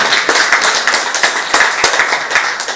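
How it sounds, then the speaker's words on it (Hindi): Audience applause at a family talk with a doctor, a steady dense patter of many hands clapping close by and filling the whole stretch, with no talk over it. "एक बार तालियां जरूर हो रही।"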